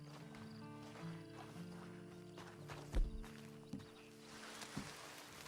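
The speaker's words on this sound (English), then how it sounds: "Then you better get on this horse." Horse hooves clip-clop at a walk in the Western video game Red Dead Online, with a few soft irregular steps and one heavier thud, faint under a low steady ambient hum and no talk.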